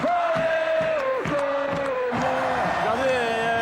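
Football fans outside a venue at night cheer and shout for players of Calais, a French amateur club on a 2000 Coupe de France run, a loud continuous crowd roar with rising yells and whoops.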